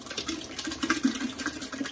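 Canned or crushed tomatoes pouring slowly into a soup pot, a continuous close wet gurgling stream with small splashes, no talking.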